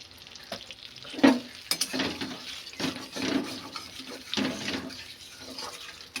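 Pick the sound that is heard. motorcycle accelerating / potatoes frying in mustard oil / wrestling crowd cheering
potatoes frying in mustard oil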